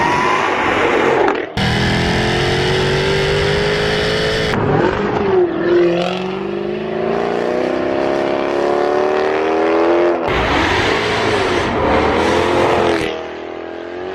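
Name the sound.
modified supercharged V8 Jaguar F-Type car driving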